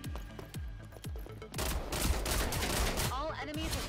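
Gunfire in the shooter game Rogue Company: a few spaced, punchy shots give way to rapid, continuous bursts of close, loud fire.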